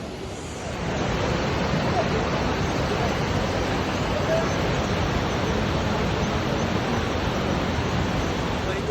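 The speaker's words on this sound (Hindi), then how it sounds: "ये बहुत ही ब्यूटीफुल मंदाकिनी रिवर यहाँ पे।" The Mandakini river on the Kedarnath yatra route rushes along steadily, a loud, continuous broadband roar of flowing water that holds from start to finish with no voices over it.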